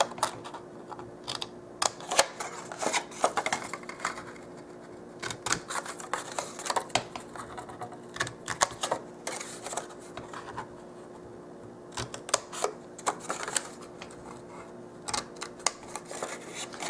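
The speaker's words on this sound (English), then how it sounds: "We're going to cut from the edge just to that 3/4 inch down for our flap." Scissors snip paper flaps for dollhouse miniature moving boxes, a run of small crisp cuts in irregular clusters, close and fairly quiet, with no talking.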